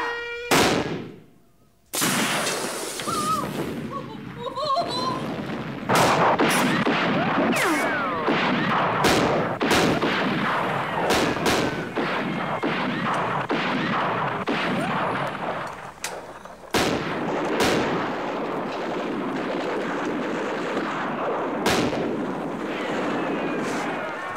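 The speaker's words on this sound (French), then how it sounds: "Il y a des pétards." Firecrackers bursting at an outdoor festivity, a dense, loud barrage of sharp cracks and pops with a few isolated bangs before and after, crowd noise faint underneath.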